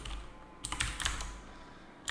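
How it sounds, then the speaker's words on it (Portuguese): Typing on a computer keyboard as a terminal install command is entered, a cluster of crisp close key clicks with brief pauses between bursts. "eu estou digitando sudo npm install rollup"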